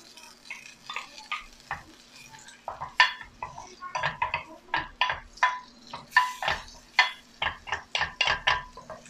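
Garlic sizzling in a pan for a Korean kimchi dish, with frequent clinks and scrapes of a utensil stirring against the pan, close and fairly loud.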